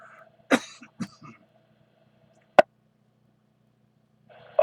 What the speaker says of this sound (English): while I cough my head off and have a sip of coffee